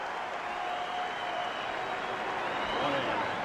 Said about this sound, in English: there's the cheer from those in the crowd who bet the over